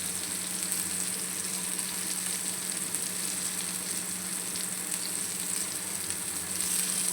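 Rava-coated brinjal slices fry on a flat tawa for Maharashtrian vangi fry, giving a steady, even sizzle throughout, close and moderately quiet, with no talking.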